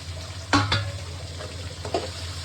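Radish being sautéed with onion and tomato in a pan for sambar, with two quick scraping stirs and a couple of softer ones over a low steady sizzle and hum, no talking.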